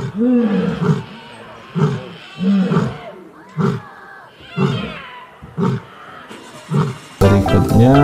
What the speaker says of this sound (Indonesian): Ada singa, teman-teman.